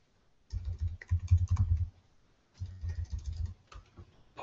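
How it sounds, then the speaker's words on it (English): Rapid typing on a computer keyboard comes in two close, busy bursts of clattering keystrokes separated by a short pause, with no voices. "it involves typing in people's emails that I don't want to do"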